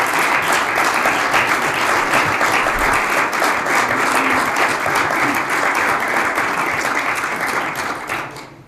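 Sustained applause for submarine colleagues at a council meeting, with dense steady clapping from a sizable group that holds throughout before tapering off at the end.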